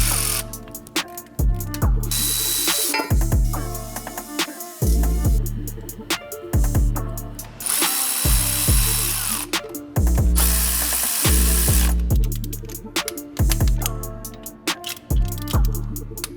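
Ratchet working the exhaust manifold bolts on a 5.9L Cummins diesel: repeated fast clicking runs of the pawl in bursts, close and loud, with brief pauses between bolts and no talk.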